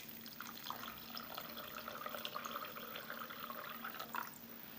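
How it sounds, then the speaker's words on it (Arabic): Water pouring from a tap over 100 grams of rice with salt and a spoonful of vinegar, a soft steady trickle and splash, quiet and continuous. "هلا حاليا رح أصب ماء"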